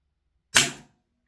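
A single sharp crack from a Dan Wesson 715 airsoft revolver made by ASG, fired once, loud and close, with a quick decay and nothing else around it.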